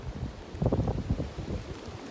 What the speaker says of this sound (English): It's nothing but clouds and rain